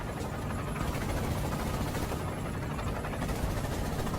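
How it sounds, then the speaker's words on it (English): A helicopter in the video game Spider-Man: Miles Morales makes a steady, dense rotor and engine roar that fills the whole clip at an even loudness, with no talk over it. "So this helicopter's having a tizzy for some reason."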